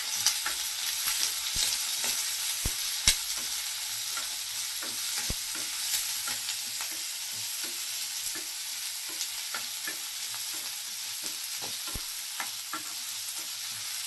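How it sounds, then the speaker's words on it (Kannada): Onion, fennel seeds, cinnamon, cloves and pepper frying for a mutton chops pepper masala, with a steady close sizzle and occasional stirring clicks of a spoon against the pan throughout, no voices. "ಈಗ ಇದನ್ನೆಲ್ಲ ಫ್ರೈ ಮಾಡಿಕೊಡೋಣ."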